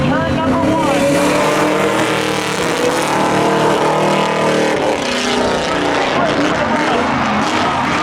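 An Audi S4 drag races at Seekonk Speedway during spectator drags, its engine a loud sustained roar that shifts in pitch as it accelerates down the track, heard with crowd and ambient noise.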